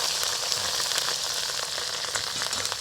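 Onion, garlic and whole spices sizzle in hot oil in a pot for a tengra fish curry cooked outdoors in the Sundarbans, a steady, close, crackling fry that runs unbroken with no talking.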